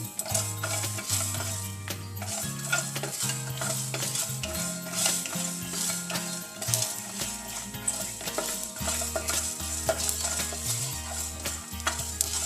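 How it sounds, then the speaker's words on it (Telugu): Cinnamon, coriander seeds and mustard seeds are lightly fried in a pan for chicken pickle, with repeated scraping and stirring strokes and a soft sizzle running under steady background music. "దాల్చిన చెక్క, ధనియాలు లైట్గా ఫ్రై అవ్వాలి."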